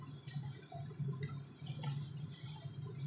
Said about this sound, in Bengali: চিনির রসটা ফুটে রেডি হচ্ছে